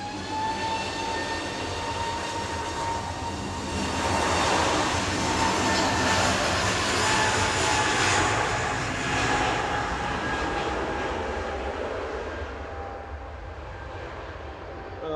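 An SAS Airbus A320neo jet airliner, registration SE-DI SIY, departs Manchester Airport for Copenhagen, its engines a loud, sustained roar with whining tones that swells mid-way and then slowly fades as it climbs away.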